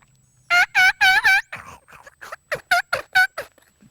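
Hand-operated turkey call making hen clucks in an unnatural pattern, a run of sharp, loud, raspy chirps in quick bursts, close and alone.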